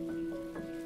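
Rain falls in a steady, even patter, with sustained soft musical tones held over it the whole time.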